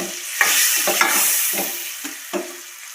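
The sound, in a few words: stirring spice masala with lemon juice and sugar in pan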